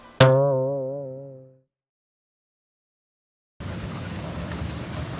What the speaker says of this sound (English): it's currently pouring rain outside